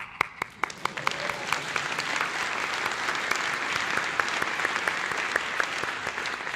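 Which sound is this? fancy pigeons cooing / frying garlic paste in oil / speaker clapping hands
speaker clapping hands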